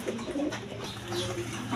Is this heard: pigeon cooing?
yes